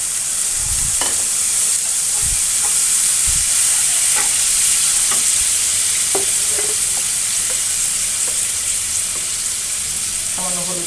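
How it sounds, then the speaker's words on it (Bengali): Green banana and potato curry frying in a pan as a little water goes in, giving a steady broadband sizzle with a few brief stirring knocks throughout. "সামান্য একটু জল দিচ্ছি।"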